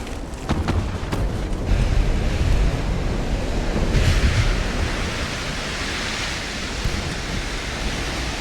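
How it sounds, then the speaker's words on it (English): Stormy winter North Sea waves and howling wind in the naval game Ultimate Admiral Dreadnoughts, a loud continuous wash of surf and gusting rumble with a few sharp impacts early on. "another successful raid in dreadful weather, as usual, in the North Sea in winter"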